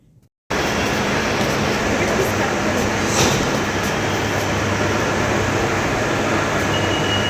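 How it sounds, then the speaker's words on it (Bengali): A metro train pulling out of a station, a steady loud rumble of rail noise that starts abruptly and holds for several seconds, with brief voices mixed in. "এই যা, মেট্রোটা চলে গেছে।"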